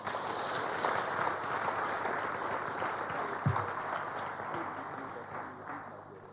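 Audience applause at a tourism conference in Abuja, a broad steady wash of clapping from a large hall crowd, moderately loud and even, with a faint voice briefly underneath.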